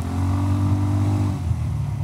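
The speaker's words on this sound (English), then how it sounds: "the exhaust has a nice grumble, so good sound" Honda X-ADV motorcycle exhaust gives a steady, deep grumble at close range, a low rumbling idle-like drone with strong bass harmonics and a slight rise in pitch midway, with no talking.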